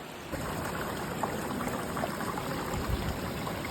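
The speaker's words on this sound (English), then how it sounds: "On the way back I need to cross this beautiful waterfall." A beautiful mountain waterfall on the Goatfell route rushes in a steady, dense wash of broadband noise, constant and fairly near with no voices.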